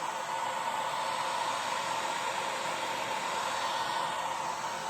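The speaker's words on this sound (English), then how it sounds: "as I grab my heat gun" A heat gun blows steadily over alcohol ink, a constant, even hiss of rushing air that holds the same level throughout with no other sounds.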